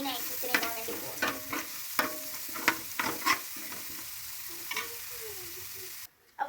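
Curry leaves crackle and fry in a pan, stirred with repeated scraping strokes over a dense continuous sizzle, close and fairly loud, ending with a brief drop to near silence.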